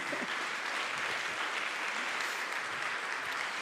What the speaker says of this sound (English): I'd like you to just keep a sustained applause, right?